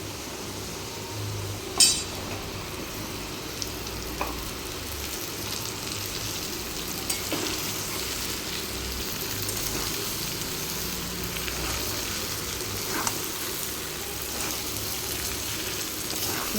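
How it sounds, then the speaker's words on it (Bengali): Sliced ridge gourd fries in hot oil in a pan with a steady, even sizzle and crackle throughout, broken by a few sharp clinks of a utensil against the metal, with no speech. "এবার এগুলোকে আমি ভালো করে ভেজে নেব।"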